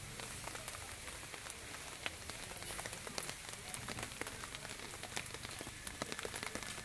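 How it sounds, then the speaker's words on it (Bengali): Heavy rain beats on surfaces in a continuous hiss, with distinct drops pattering through it; the sound is steady and fairly soft. "অনেক বৃষ্টি হচ্ছে।"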